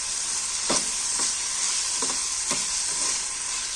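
A turmeric-spiced egg curry base fries in a pan with a continuous sizzle, while a spoon stirs it in four or five distinct scraping strokes, close by and without talk.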